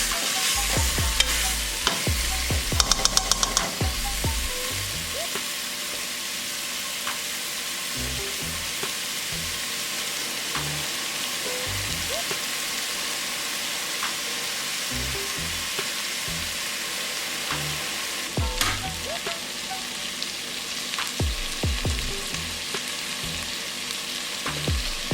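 Jamaican curry goat fries and sizzles steadily in a pot while a spoon scrapes and stirs it in repeated clanking strokes, close and loud, with no talking.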